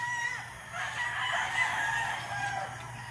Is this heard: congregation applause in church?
no